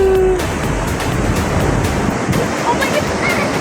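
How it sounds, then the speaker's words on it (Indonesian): Big ocean waves breaking on the beach at Lhoknga, Aceh: a loud, continuous roar of surf and rushing water close by, with wind buffeting the microphone throughout. "Kita saksikan ombak besar datang."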